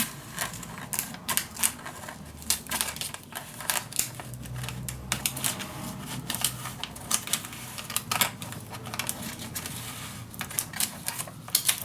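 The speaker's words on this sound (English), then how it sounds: "Now I'm gonna grab my non-stick scissor and I'm gonna cut this off." Non-stick scissors cut through self-adhesive vinyl in a series of short, crisp snipping clicks, irregular and close, with rustling of the sheet between cuts and no talking.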